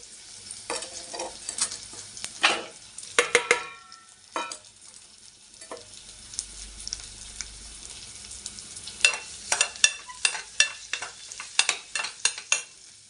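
Chopped beetroot and fried onions sizzle in oil in a pan, with repeated sharp stirring scrapes and clatters coming in bursts over a quiet background hiss.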